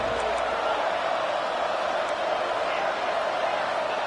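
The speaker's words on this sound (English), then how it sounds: "Listen to the crowd energy here in the early going." A college football stadium crowd for Clemson against Arizona State roars in a steady, broad wash of cheering and noise throughout, with no breaks.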